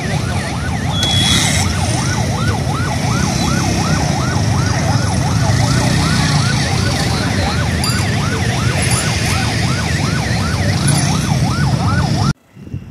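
A loud ambulance siren on the Kanchipuram to Chennai route wails in rapid repeating up-and-down cycles close by, continuing steadily before cutting off abruptly near the end.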